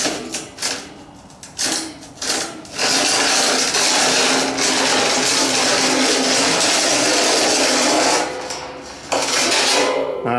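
Sheet metal run through rollers to curve it for a DIY sand muller, a loud sustained grinding scrape through the middle after a few clanks and rubbing knocks, then easing into quieter handling noises, with no talk.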